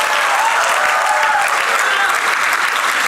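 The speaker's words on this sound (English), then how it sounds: "Please acknowledge the presence of these eminent personalities with a huge round of applause." A large crowd applauds loudly and steadily, dense continuous clapping that fills the whole moment without a pause.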